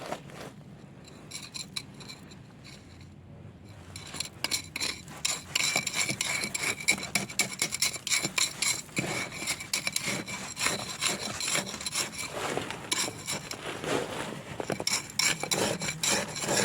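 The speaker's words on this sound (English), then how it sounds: "I'm using the screwdriver to push it in under the tires" Gravel being scraped and pushed with a screwdriver under car tires sitting on ice, a close, steady rasping and grinding with rapid scratchy strokes after a quieter start.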